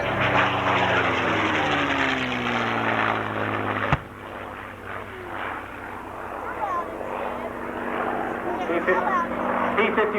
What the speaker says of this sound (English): P-51 now pitching up From the Northwest